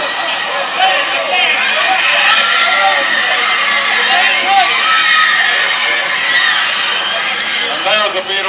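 Beatles fans on an airport concourse scream and yell goodbye in a dense, sustained, shrill crowd roar, with high-pitched shrieks throughout and a voice talking over the top.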